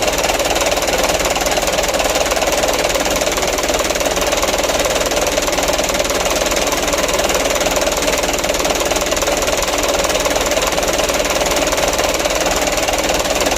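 A diesel engine with a newly replaced injection pump runs continuously with a loud, steady knocking clatter, close and unchanging throughout.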